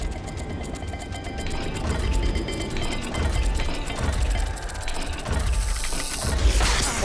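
Dial puzzle mechanism turning in Hogwarts Legacy, a continuous run of close ratcheting clicks and grinding gear rattles with creaks, uneven in speed, ending in a sharper metallic clunk, no speech.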